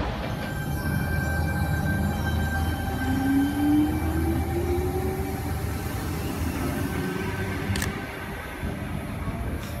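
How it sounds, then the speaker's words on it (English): A Sydney train runs at a platform in Central Station with a steady loud rumble, a rising wheel squeal and a sustained electric whine throughout, close by. "And this is also my favorite, the Sydney train set."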